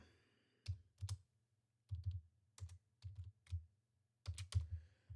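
Close, crisp keystrokes tap on a computer keyboard in short irregular clusters with brief pauses between, each click distinct against a quiet room.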